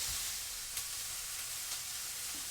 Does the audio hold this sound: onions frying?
yes